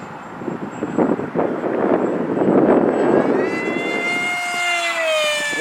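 Mini Dragon RC model airplane flying at full throttle, a steady wind-buffeted rush that gives way to a rising, high-pitched motor whine as it zooms past at moderate distance.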